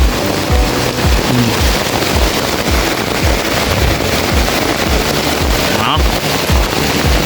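Heavy rain pours down on a night camp during a ranger patrol, a dense, loud, unbroken hiss with rapid pattering drops close by.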